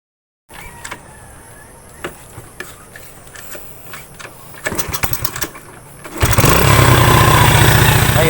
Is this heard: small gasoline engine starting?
yes